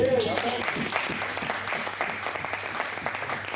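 A church congregation applauding for the Lord during a sermon, dense, steady clapping that fills the room throughout, with a voice briefly audible over it at the start.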